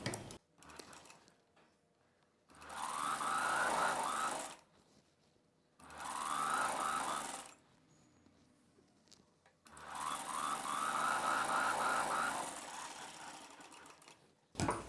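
Sewing machine stitching a boat neck Punjabi dress, running in three sustained bursts of rapid mechanical whirring separated by short pauses, close and fairly loud.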